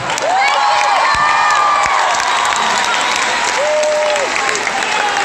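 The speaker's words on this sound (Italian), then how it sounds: "Fatemi un applauso." Loud applause and cheering come from a packed concert crowd at Alcatraz for a show, with whoops and shouts rising over dense clapping throughout.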